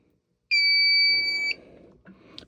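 Fire alarm panel letting out a single loud electronic alarm tone lasting about a second, followed by a low rustle and a faint click.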